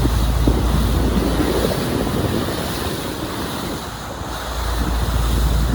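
Steady rush of wind buffeting the microphone over rolling surf and waves, loud and continuous with no voices.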